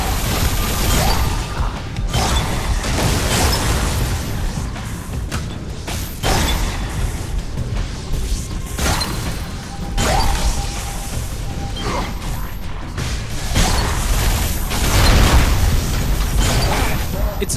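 Shotgun blasts from the sci-fi shooter Alien Rage, a string of loud, sharp booms with crashing, metallic tails recurring every second or two over busy game noise and speech.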